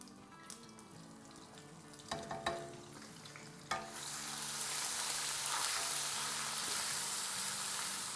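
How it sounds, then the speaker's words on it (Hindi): Ginger and garlic paste hitting a hot pan for a spinach and moong dal: a few clinks and stirs, then a sudden steady sizzle that holds loud and even to the end, no speech. "इसको थोड़ा सा सौटे करेंगे,"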